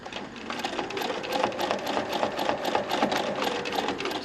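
A sewing machine free-motion quilting a feathered border runs in a steady, rapid stitching rhythm throughout, close and moderately loud, with no talking.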